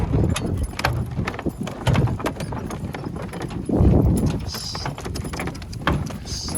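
Draft horse hooves clip-clop steadily and loudly on hard ground, close by, in a continuous walking rhythm.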